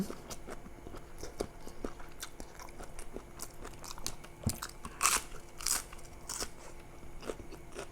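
Loud, close crunching and biting while eating spicy Thai chicken feet salad, irregular crisp crackles and chews with several sharper bursts.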